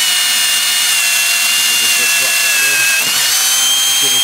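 A loud power drill whines steadily as it bores a hole in the wood of a car audio bandpass subwoofer box, its pitch dipping briefly near the end, close and continuous with no talking.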